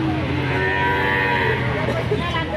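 A Simmental bull calf lowing at a livestock market in Kulon Progo, one long, loud, close moo that carries through nearly the whole clip.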